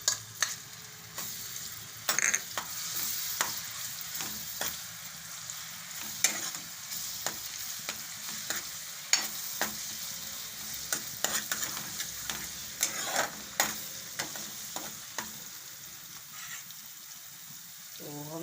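Ginger-chili paste fries in hot ghee with green garlic as it is stirred, giving a steady sizzle broken by repeated scraping strokes of a spoon against the pan.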